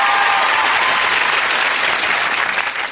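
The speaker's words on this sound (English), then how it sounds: "that's worth another round of applause" Sustained applause from a large crowd, steady and loud throughout, tapering slightly toward the end.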